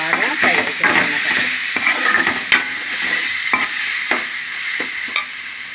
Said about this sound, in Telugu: ఆయిల్ వేసి ఉప్పు, కారం అన్నీ వేసుకుని బాగా ఫ్రై చేసుకోవాలండి